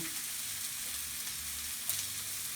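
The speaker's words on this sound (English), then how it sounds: "So we'll get the onions going" Onions sauté in a hot pan, giving a soft, even sizzle throughout with a brief louder crackle near the end and no one speaking.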